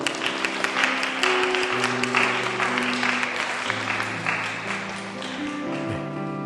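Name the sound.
applause welcoming a foreign church member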